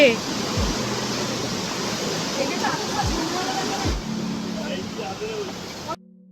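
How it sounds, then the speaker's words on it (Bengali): A powerful waterfall in Meghalaya crashes down in a constant, loud broadband roar that fills the whole scene, with a few faint knocks beneath it and no clear talk. "এতটা জোরে ঝর্ণাটা পড়ছে যেন মনে হচ্ছে জলটা রিভার্সে উঠছে"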